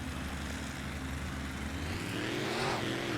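Off-road racing trucks on BKT tires at a Seattle race roar at the start, a dense, steady engine drone that swells slightly louder toward the end, with no voices.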